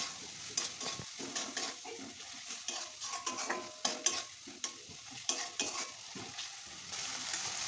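Spices with salt, turmeric and a little sugar are stirred and fried in a pan for ghugni. Irregular spatula scrapes and knocks sound close over a soft background sizzle.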